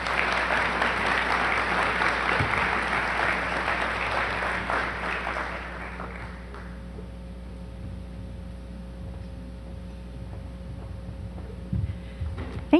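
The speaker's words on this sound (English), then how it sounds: "let's give him a big round of applause" An audience at a chamber of commerce talk on downtowns gives warm applause for about six seconds, a dense, full clatter that then fades to a quiet room with a low hum and a few faint noises.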